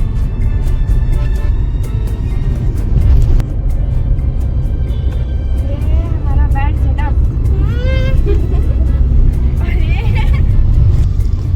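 Busy road traffic heard from inside a moving Maruti Suzuki Fronx: constant low engine and tyre rumble with passing vehicles, and horns honking repeatedly in the second half. Voices talk at times.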